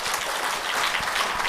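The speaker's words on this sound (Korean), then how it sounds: "박수 한번 쳐주세요" Audience at a Korean Buddhist lecture-style TV program clapping, a dense, even burst of applause close and steady from start to end.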